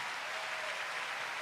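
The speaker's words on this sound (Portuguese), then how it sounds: "vamos dar a melhor salva de palmas que o Rio de Janeiro já deu para" A church congregation in Rio de Janeiro gives a round of applause during a sermon, a brief, steady wash of clapping at moderate distance, with no voices over it.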